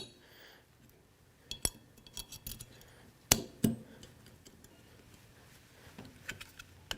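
A SIG Sauer P320 pistol has its barrel swapped for a Silencer Co. barrel, giving a few sharp metallic clicks and clacks of parts seating, quiet and close, with gaps between them.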